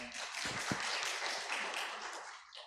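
A church congregation claps to welcome a deacon, a soft, fairly distant patter of many hands that thins out toward the end.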